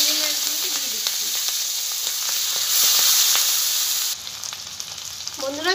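Prawns hitting hot mustard oil with cumin in a wok, a loud continuous close sizzle that swells and then settles, with faint stirring ticks and no talking.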